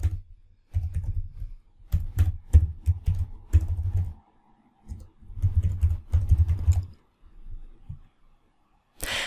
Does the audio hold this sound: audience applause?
no